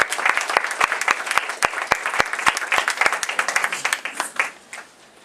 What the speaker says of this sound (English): Let's have a round of applause for the cat.